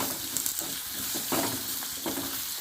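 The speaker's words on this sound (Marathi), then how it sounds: "नंतर यावर घालूया हळद पावडर लाल तिखट छान परतून घेऊया" Turmeric and red chili powder sautéing in a pan with raw mango, a soft continuous sizzle with a few scraping stirs, close up and steady.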